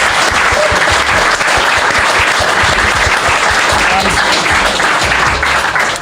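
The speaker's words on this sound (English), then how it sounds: "A huge round of applause to Andreas Georgiadis from Fujifilm." An audience at a live podcast recording in London breaks into loud, dense applause, continuous clapping filling the room close up for the whole stretch.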